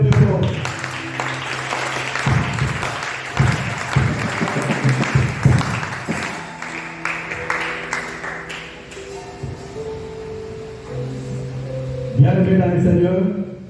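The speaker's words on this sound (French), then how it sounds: "Est-ce qu'on peut l'acclamer très fort?" A church congregation applauds and cheers for Jesus Christ in a loud burst of clapping, mixed with voices and sustained musical tones that continue as the clapping fades.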